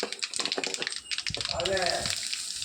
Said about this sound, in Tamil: கடுகு பொரியுது இப்போ